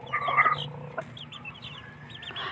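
Backyard chickens cluck in short, bright bursts at a steady, moderate distance, with a few calls overlapping over a quiet farmyard background.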